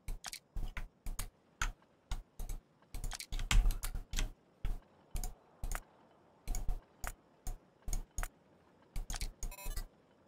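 Sharp, close clicks from a computer mouse and keyboard while playing Factorio with the Krastorio 2 mod, coming in uneven bursts and quick pairs with brief pauses between them, and no talking.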